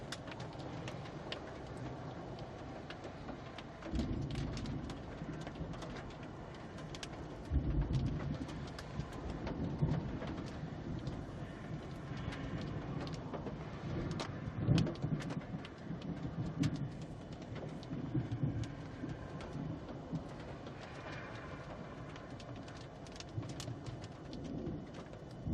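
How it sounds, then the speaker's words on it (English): A Texas supercell thunderstorm brings steady, dense rain hiss throughout, with deep rumbles of thunder swelling at intervals beneath it, heard from close by with no talking. "Wow, this is an incredible storm."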